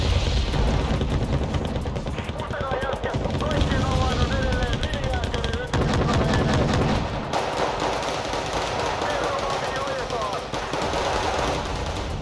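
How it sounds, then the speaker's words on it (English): Artillery and heavy gunfire in the Cold War strategy game WARNO, a dense continuous barrage of booms and rattling bursts, loud and layered, with a voice talking over it throughout. "They're using so much artillery at this stage of the game."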